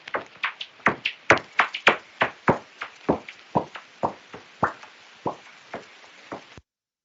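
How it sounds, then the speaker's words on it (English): Noctule bat echolocation calls through a bat detector, a rapid irregular run of dry chip and chop clicks alternating in pitch, fairly loud and close, with no talk. "I still go for the chip chop sound."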